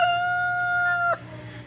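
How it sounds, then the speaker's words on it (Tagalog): Rooster crowing, a single sustained call with a steady tonal tone that breaks off sharply near the end, followed by quieter low background noise; no talk. "Yung mga manok na yan, alaga ko yan."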